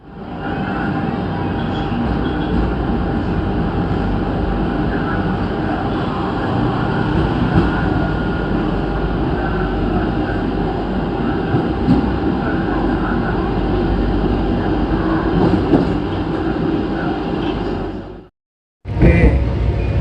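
Pangrango train running between Bogor and Sukabumi, a loud steady interior rumble and rolling roar of the rail cars that continues throughout, briefly cutting out near the end before resuming.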